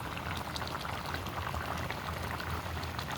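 Goat adobo simmered in Sprite bubbles steadily in a pot, a continuous close crackling boil with no talking.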